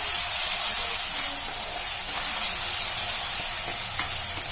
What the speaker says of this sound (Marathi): आता आपण याच्यामध्ये अद्रक पेस्ट एक चमचा घालायची ती पण कांद्यामध्ये व्यवस्थित मिक्स करून चांगली भाजून घ्यायची आहे